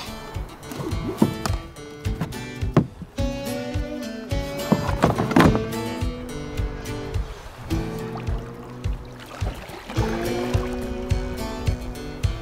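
A canoe paddled across a lake on a wilderness trip, with repeated paddle strokes and water trickling and dripping close by, and a muffled hum and knocks mixed in, no voices.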